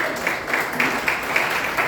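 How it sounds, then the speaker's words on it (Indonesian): A church congregation claps together in praise during a sermon, a dense, steady wash of many hands filling the room for a couple of seconds, with no talk over it. "Ayo tepuk tangan bagi Tuhan."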